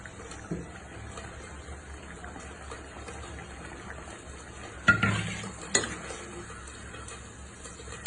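Eggs and pointed gourd simmering in a coconut milk curry are stirred in a pot under a faint bubbling sizzle, with a couple of louder clanks of the spoon against the pot, no voices.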